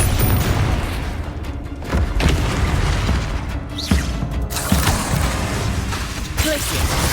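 Confringo fire-spell blasts in the video game Hogwarts Legacy, a run of loud booming bursts and crackling impacts over several seconds, mixed with a few brief game sounds.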